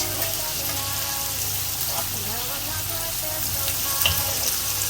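Peppers and onion fry in hot oil in a pan for a breakfast dish, giving a steady, close hiss and crackle that holds evenly throughout, with a few louder pops near the end.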